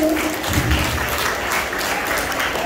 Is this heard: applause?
yes